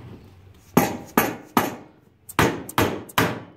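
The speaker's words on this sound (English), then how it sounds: "I like to use a dead blow hammer." A dead blow hammer strikes a Predator 212 small engine six times, sharp heavy thuds in two uneven groups, close and loud with no talk.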